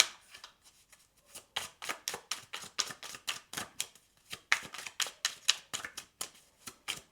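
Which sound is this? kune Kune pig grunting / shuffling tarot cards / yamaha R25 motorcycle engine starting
shuffling tarot cards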